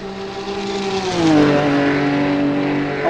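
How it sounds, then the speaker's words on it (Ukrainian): A Lotus Esprit's engine revs up in fourth gear, a loud sustained drone climbing steadily in pitch as the car accelerates, heard close with no talk over it. "Ось четверта передачка розкручується."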